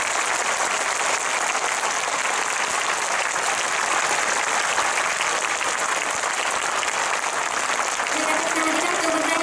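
An audience gives loud, continuous applause at a constitution rally in Kyoto, dense clapping throughout, with a voice beginning to speak faintly near the end.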